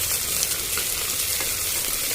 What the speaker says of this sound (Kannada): ಕೆಂಪಾಗತ್ತಂತ ನೀಟಾಗಿ ಫ್ರೈ ಮಾಡ್ಕೊಳ್ಳೋಣ.